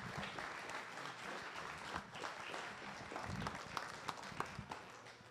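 A room full of people applauds steadily throughout, a dense wash of clapping with a few sharper individual claps standing out near the end, heard alone without speech.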